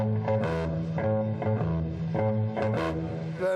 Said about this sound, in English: the basic difference is that most bass players sound like this